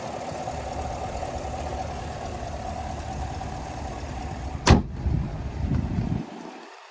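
A 2023 Chevrolet Silverado 1500 ZR2 with a 6.2 liter V8 idles with a steady low rumble, broken near the end by a sharp thump and some brief mechanical shuffling before it fades.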